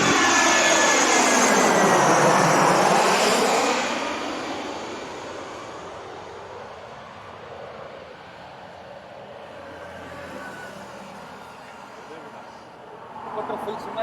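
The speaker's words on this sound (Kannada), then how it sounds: "ಅದಕ್ಕೆ ಇನ್ನೊಂದು ಲ್ಯಾಂಡಿಂಗ್ ತೋರಿಸ್ತಾ ಇದ್ವಿ" An airplane landing passes close, its loud jet roar sweeping in a rising and falling tone before fading into a distant rumble, with talk over it.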